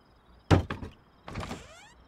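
A door opening in the survival game Rust: a sharp wooden thump, then a second scraping, sliding swing about a second later. Both are close and clear over quiet room tone, with no talking.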